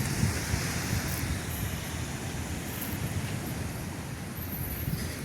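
Steady broadband wash of sea waves at a beach during an evening birthday bonfire, a continuous rushing surf with no distinct breaks, fairly close and even in level throughout.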